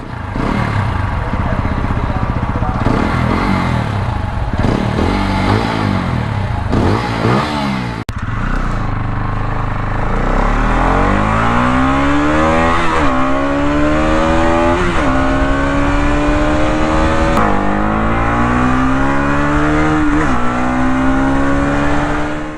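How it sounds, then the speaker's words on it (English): An RTR 200 BS6 motorcycle engine revs repeatedly, its throaty exhaust rising and falling in pitch through a series of loud, close throttle blips. "The bike still offers a throaty exhaust note"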